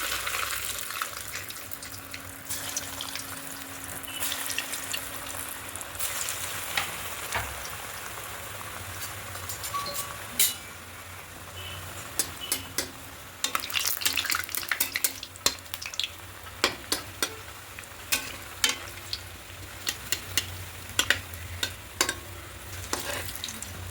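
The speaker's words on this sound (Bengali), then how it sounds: "প্রথমে মিডিয়াম ফ্লেমে রেখে একটু হালকা করে ভেজে দিতে হবে" Breadcrumb-coated vegetable chops fry in oil over a medium flame, giving a continuous crackling sizzle that grows busier toward the end, with sharp pops and light clicks; no speech.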